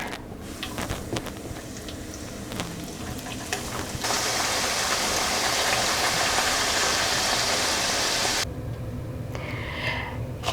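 Homemade wheat chips fry in hot oil with a steady, dense crackle and sizzle that swells louder midway and then eases, with no talking.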